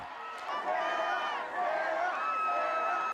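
A huge outdoor political rally of more than 23,000 people for John McCain and Sarah Palin in Northern Virginia, the crowd roaring and cheering continuously at close range with a steady wash of voices.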